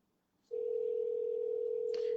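A telephone dial tone begins abruptly after a short faint silence and holds as one steady, unbroken tone at moderate volume, with a faint click near the end and no talking.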